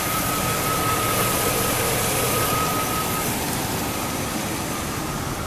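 A 1998 GMC 3500 utility-bed truck with 205,130 miles runs at idle, its engine giving a loud, close, steady drone with no break.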